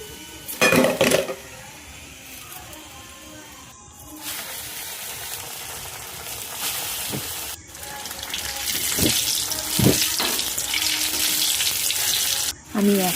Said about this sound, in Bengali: আমি এরকম লাল করে সবগুলোকে ভেজে নেব।